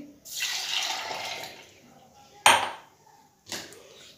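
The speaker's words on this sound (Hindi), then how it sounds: "साथ है हमारे पास है ये दूध इसे ऐड कर देंगे" Milk poured into a container for a banana milkshake, a steady liquid pour for about a second followed by two short clinks of utensils, fairly close with no talk.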